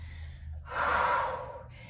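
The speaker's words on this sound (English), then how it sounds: "What's the breathing? Shh. Exhale." A single forceful exhale during a dumbbell workout, a breathy rush of air lasting about half a second, close and clear over a faint low hum.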